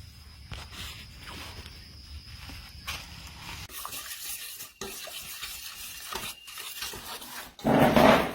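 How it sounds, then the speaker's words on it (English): Home-grown mushrooms, freshly harvested, sizzle and get stirred in a pan with a soft steady crackle, scraping utensil strokes, and a louder burst of frying near the end. "It's time for some fried mushrooms"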